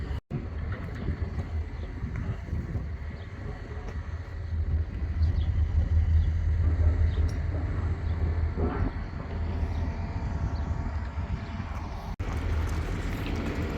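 A bus on the Isle of Skye rumbles past outdoors, a low engine drone that swells to its loudest in the middle and fades again, with wind in the background and no talk.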